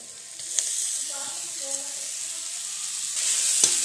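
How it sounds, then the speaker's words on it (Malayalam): Crushed ginger and garlic sizzle with coconut pieces in hot oil for a Kerala-style duck curry, a loud continuous hiss up close with occasional stirring clicks and a faint voice underneath. "വെളുത്തുള്ളി ചതച്ചത് ഇട്ട് കൊടുക്കാവേ."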